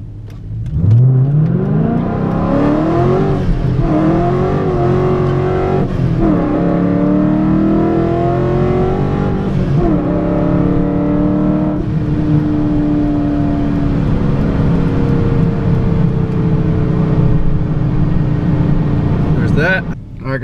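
Procharged Dodge Challenger R/T launching on a 1/8 mile run, a loud engine roaring and climbing through gears with rising revs for nearly twenty seconds, close and sustained.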